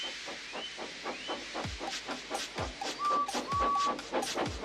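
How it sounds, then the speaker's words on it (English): Cartoon steam engine Edward puffing away in an animated show, a steady run of soft chuffs and steam hisses with short whistle toots, fairly faint and close, no talking. "So they lit his fire, made lots of steam, and Edward puffed away"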